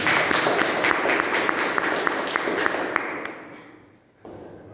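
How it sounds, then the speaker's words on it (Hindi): An audience at a presentation event applauds loudly with rhythmic clapping for about three seconds, then fades out abruptly into near quiet before faint room noise returns. "उसके लिए जोरदार तालियां दें।"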